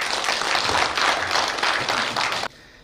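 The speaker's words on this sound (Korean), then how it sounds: "박수로 모시겠습니다." A church audience applauds to welcome a guest speaker, a steady, fairly loud wash of clapping that stops abruptly near the end, leaving faint room tone.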